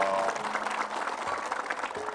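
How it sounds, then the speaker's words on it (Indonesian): Audience applause at a televised Indonesian religious gathering, a dense, steady patter of many clapping hands sustained throughout the moment, fairly loud and close. "tepuk tangan sekali lagi"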